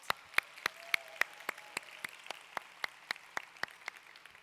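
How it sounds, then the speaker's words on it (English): Sparse, slow clapping from a small audience at an evening lesson, distinct individual claps spaced out at a steady pace, fairly quiet and with no talk over them. "give yourselves a round of applause from being here tonight"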